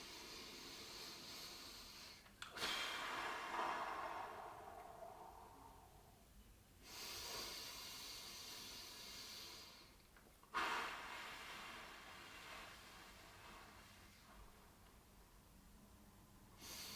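Slow, deep breaths during a seated shoulder stretch in a gentle chair-gym session: three long, soft inhale-exhale swells that are quiet and close, with no talk.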